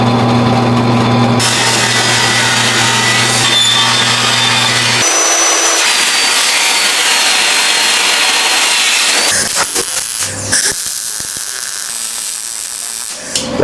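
Steel piece for a Harbor Freight trailer being drilled with a power drill before welding, a loud, steady grinding whir running continuously near the mic, shifting pitch partway and breaking into rougher bursts toward the end.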